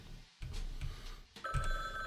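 A telephone ringing in the video game Frog Detective, with bright tonal rings that start partway through and repeat over a low background hum.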